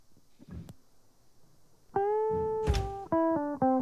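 After a few soft thumps, a buzzy electronic guitar-like menu tone from Rocksmith 2014 for the bass path sounds, sustains, then breaks into two short repeated notes, alone and fairly loud.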